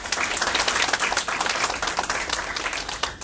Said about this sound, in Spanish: Un fuerte aplauso para Juan